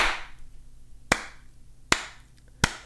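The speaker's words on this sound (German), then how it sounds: "Ich glaube, da ist ein Applaus an dieser Stelle mal angemessen." Three sharp, separate hand claps, near and crisp, spaced at irregular intervals in an otherwise quiet indoor space.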